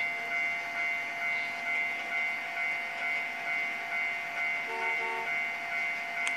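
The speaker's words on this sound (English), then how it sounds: "That was probably the last train that's going to the crossing." In the Trainz video game, rhythmic, steady clatter of a train rolling along the tracks toward a Japanese level crossing with a sustained mechanical tone, and a brief horn-like tone near the end.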